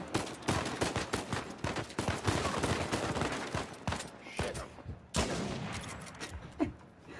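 Rapid, dense gunfire from the Uncharted 4 video game: many loud, overlapping shots in quick bursts with brief pauses, and a sharp burst near the end.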